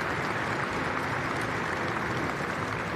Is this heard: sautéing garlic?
no